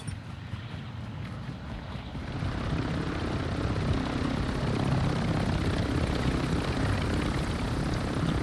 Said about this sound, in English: I'm getting in the chopper